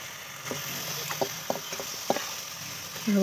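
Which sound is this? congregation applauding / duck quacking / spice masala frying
spice masala frying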